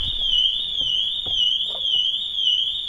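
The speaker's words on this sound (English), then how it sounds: "it spends a few seconds looking for the tag, can't see it, the alarm system goes off" A car alarm from a Pandora Mini BT security system fitted to a Porsche Carrera sounds a loud, continuous warbling electronic tone that wavers up and down, with faint low knocks underneath.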